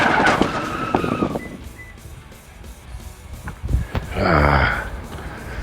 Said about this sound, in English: That's what the car's for. It's a drift car.